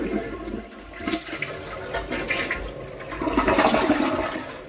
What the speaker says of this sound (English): there goes the flushing